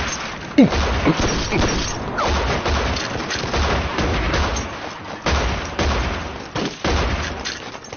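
A battle scene in a dubbed Chinese drama is filled with dense gunfire: rapid volleys of shots and crackling bursts mix with booms and crashes in a continuous, loud barrage.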